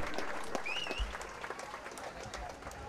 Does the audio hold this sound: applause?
yes